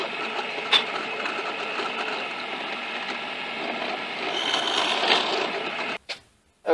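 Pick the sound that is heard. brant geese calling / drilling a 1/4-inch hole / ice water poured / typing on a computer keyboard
drilling a 1/4-inch hole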